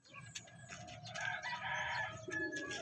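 A gamecock rooster clucks and gives a short crowing call close by, a run of throaty, uneven clucks building to a brief strained crow.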